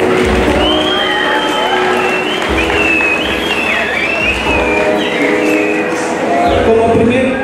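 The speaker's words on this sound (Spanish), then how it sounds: "para quien pido fuerte los aplausos" Loud guests applauding and cheering at a quinceañera party, with crowd noise, whoops and voices layered over music with a sustained melodic line and a thumping low beat, everything close and busy throughout.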